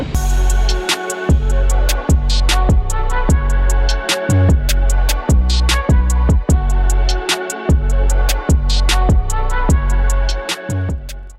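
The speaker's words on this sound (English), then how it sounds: "Sorry about the noise, there's drilling going on." Loud, steady mechanical drilling noise pulsing in a fast repeated rhythm, close by and continuous throughout, with no voices.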